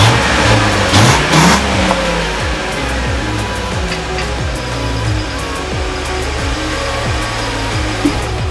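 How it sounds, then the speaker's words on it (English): A V6 Ford Mustang with its stock exhaust revs up repeatedly from a loud, close idle, giving a series of rising engine sweeps that fall back between each blip, with no talk over it. "I'll give you guys some sound clips of it revving up with the stock setup."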